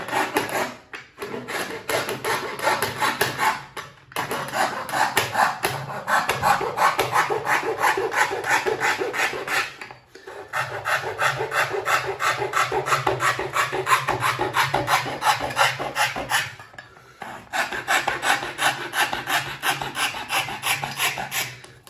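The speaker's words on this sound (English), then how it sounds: "So I'm now going to cut the inside out. I found the best is these tenon saws." Tenon saw cutting out the inside web of a hoof during farrier work on flat feet and thin soles, rapid rasping back-and-forth strokes in long bursts separated by brief pauses, close and fairly loud.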